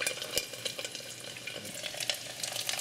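Pieces of lechon kawali pork frying in hot oil, a steady, close crackling sizzle with sharp pops throughout the short stretch.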